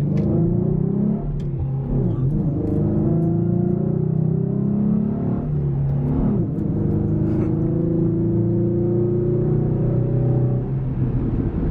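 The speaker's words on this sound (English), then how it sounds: "For a V6, it will go." A V6 car engine with a 93-octane tune rumbles loudly up close, its deep exhaust note rising and falling as the throttle is blipped through several revs.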